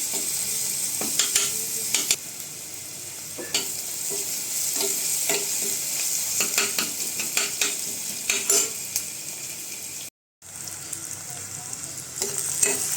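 Onion frying with a pinch of salt in a pan for a brinjal potato curry, a continuous near sizzle punctuated by repeated spatula scrapes and taps, with one brief cut to silence.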